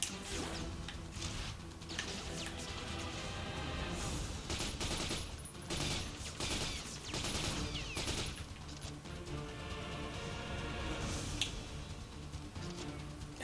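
Bursts of gunfire in the video game The Darkness crackle in quick rapid volleys at moderate level, with a mix of game sounds between the volleys.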